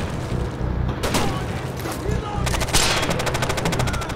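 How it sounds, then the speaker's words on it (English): Machine gun fire in the tactical shooter Rainbow Six: Vegas 2, rapid bursts coming in waves at close range over dense game noise, with voices talking throughout. "there's a machine gun in the container"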